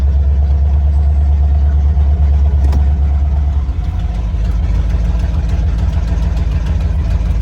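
A 1987 Ford Bronco XLT's cammed V8 idles steadily with a low, lumpy rumble, close and loud, shifting to a slightly different throb partway through.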